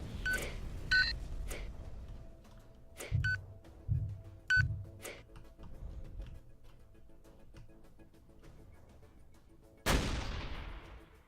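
A gun pod fires in the Habitat video game: short electronic beeps and sharp bursts in an uneven run, then one loud blast that fades slowly.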